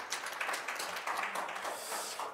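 Conference audience applauding the four presenters of a panel session, a short burst of moderate clapping in a hall, fairly even throughout.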